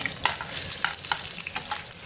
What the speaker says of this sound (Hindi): अब हम इसमें डालेंगे जी देसी घी में सबसे पहले हम डालेंगे इसमें प्याज, बिल्कुल बारीक से स्लाइसेस करे हुए प्याज के